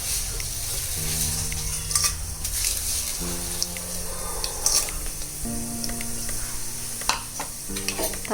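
Tempering seeds splutter and sizzle in hot oil inside a cooker while a black-eyed pea curry is being made. A steady frying hiss runs throughout with scattered sharp crackles, heard under background music.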